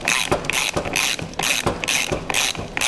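Ratchet tightening the differential support bolts on a Fiat Panda 169 4x4, clicking in quick repeated bursts of strokes, close and clear with brief pauses between them.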